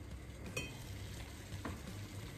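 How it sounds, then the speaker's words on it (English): Water coming to a boil in a pot on the stove for brewing butterfly pea tea, giving a steady close bubbling hiss with a few sharper pops throughout, heard alone. "my water is boiling"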